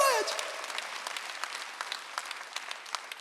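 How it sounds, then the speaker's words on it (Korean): A Korean Sunday worship congregation breaks into applause during the sermon, scattered claps building into a light, uneven patter after a brief voice at the start, fairly distant and soft. "박수"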